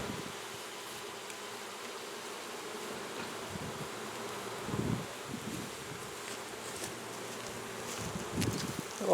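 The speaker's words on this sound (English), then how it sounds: "A lot of bees in there." Honeybees buzz steadily inside an open hive during a fall honey flow, a constant close, moderately loud drone with a few brief handling knocks and rustles.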